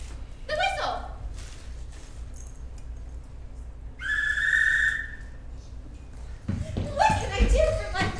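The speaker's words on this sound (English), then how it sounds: "The whistle." A whistle in a Wizard of Oz story gives one steady, piercing blast lasting about a second, set between stretches of animated talk.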